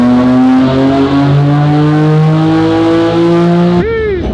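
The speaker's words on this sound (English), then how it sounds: "We do pulls in 5th gear in this car. We're gonna make a pull right now." A BMW F80 M3 engine revs hard and steadily climbs in pitch through a 5th-gear dyno pull, loud and close, then drops sharply as the throttle lifts near the end.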